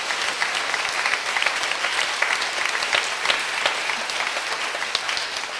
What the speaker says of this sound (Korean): 다시 한 박수로 주님께 영광 돌립니다